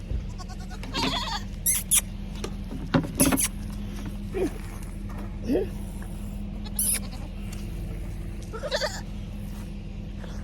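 Goats bleating on a farm, a few short nasal calls scattered over a steady background hum, close by, with someone talking briefly.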